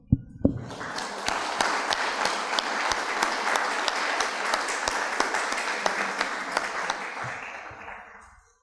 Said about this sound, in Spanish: Dante González y Milagrito Saldarriaga, para quienes pido un fuerte aplauso.